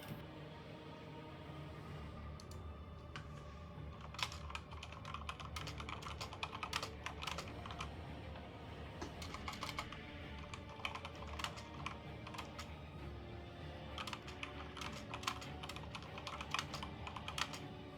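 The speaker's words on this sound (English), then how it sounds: "Sorry, typing out notes." Steady typing on a computer keyboard with dense, irregular key clacks throughout, close and fairly quiet against a low background hum, with no talking.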